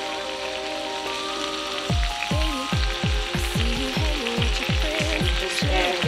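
Fresh minced garlic hitting a pan of leftover butter and oil after shrimp, a sizzle bursting in at about two seconds and crackling on under a repeating tonal pattern.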